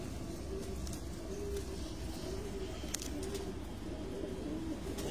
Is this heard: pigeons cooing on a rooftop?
yes